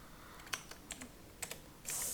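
A few light clicks of typing on a computer keyboard, soft irregular keystrokes close by and faint, with no talk.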